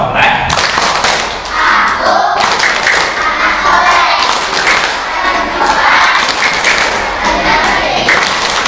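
A group of children claps in rhythm along to a chanted Islamic children's clapping song, loud and close, with repeated bursts of claps and thumps mixed with their voices.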